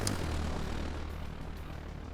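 A military drone droning steadily overhead in a combat video game, a continuous low engine hum, fairly faint, with no talk.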